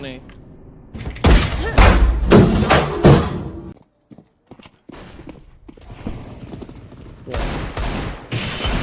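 Rapid bursts of video game gunfire crack in loud clusters, then pause before more volleys resume, with voices talking over parts of the shooting.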